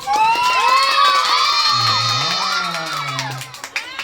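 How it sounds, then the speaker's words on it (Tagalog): Birthday party guests cheering and shouting together in a loud, excited burst of high voices that fades toward the end, with little clear clapping. "Okay guys, palakpakan na may kasama sigawan"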